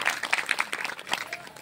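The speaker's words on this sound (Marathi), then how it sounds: "धन्यवाद, टाळ्यांचा गडगडाट." Applause from an audience at a vote-of-thanks ceremony, a short burst of scattered, fairly close clapping with crowd murmur mixed in.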